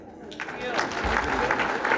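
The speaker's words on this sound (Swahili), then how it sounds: "makofi mazuri ya gavana wetu" Applause for a governor at a Murang'a public gathering: broadband clapping from a crowd that holds steady for about two seconds, mixed with background voices.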